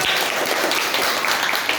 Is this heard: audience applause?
yes